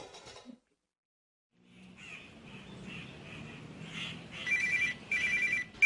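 After a brief silence, a mobile phone's electronic ringtone chirps in repeated bursts, growing louder toward the end, heard up close without talk.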